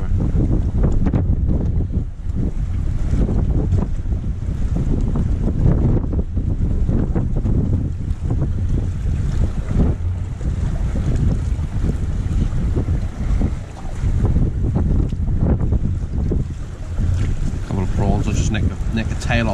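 Strong, cold northeasterly wind gusts down a river during shore fishing, a steady loud buffeting roar across the mic throughout with brief voices underneath.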